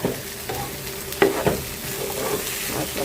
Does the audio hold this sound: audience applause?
no